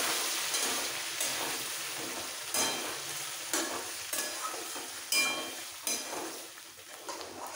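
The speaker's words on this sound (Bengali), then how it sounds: "এবার বাকি ডাল সেদ্ধটা দিয়ে একটু কষিয়ে নিতে হবে।" Boiled mung dal being stir-fried with a fried hilsa fish head in a pan: a soft sizzle under regular spatula scrapes, roughly one each second, close and unaccompanied by speech.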